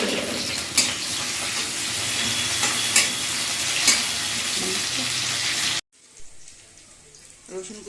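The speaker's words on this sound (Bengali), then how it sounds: "এই তেলে আগে রসুন কুচি দিয়ে দিলাম।" Chopped garlic fries in hot oil with a loud, steady sizzle and occasional stirring clatter. The sizzle cuts off abruptly near the end and leaves a much quieter background.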